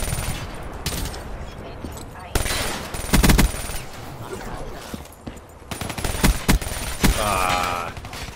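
Automatic gunfire from a hardened sentry turret in the first-person shooter Call of Duty-style team deathmatch, rapid bursts cracking loudly in stretches with brief pauses, layered over busy game noise.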